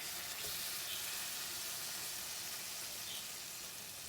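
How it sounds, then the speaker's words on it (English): Slices of Spam laid into a hot frying pan give a dense, even sizzle, a steady broadband hiss that holds at the same level from start to finish with no talk. "I'm gonna go ahead and I'm gonna place them down inside that pan in that empty space"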